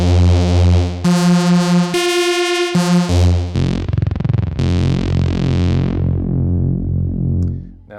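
Detuned saw and pulse-width synth bass with the filter wide open, bright and buzzy, playing a few sustained notes and then a pulsing, rhythmic bass pattern with heavy effects that trails off near the end.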